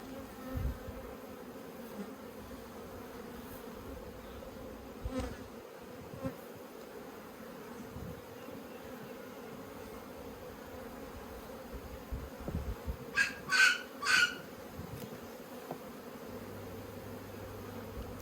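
Honey bees buzzing steadily around an open top bar hive during an inspection, a faint constant drone with a few closer, louder buzzes of individual bees flying past near the end.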